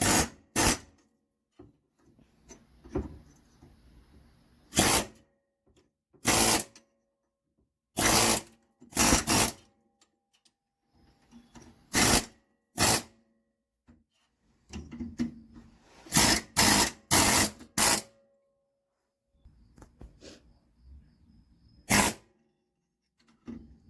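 An air hammer rattles in repeated loud bursts, pushing a rear differential bushing out of a Ford Mustang 8.8 rear end, with short quiet gaps between the hammering.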